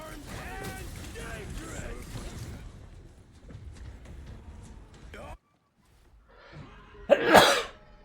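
A single sharp, loud sneeze bursts out near the end, following a stretch of quiet speech and game sounds.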